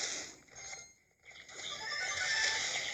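A Hog Rider is deployed in the mobile game Clash Royale, with a loud horse-like whinny and neigh lasting a few seconds, interrupted by a short dip before rising again.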